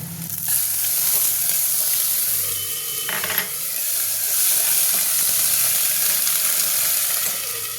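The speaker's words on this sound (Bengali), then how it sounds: "পেঁয়াজটা আমার ভাজা হয়ে গেছে এর মধ্যে আমি দিয়ে দেবো আদা রসুন আর পেঁয়াজ বাটাটা" Ginger, garlic and onion paste goes into a pan of fried onions for a rohu fish roe curry, a loud, constant sizzle close by with a brief clatter of a utensil partway through.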